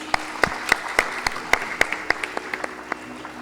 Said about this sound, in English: Let's give a round of applause to Kripa Aunty.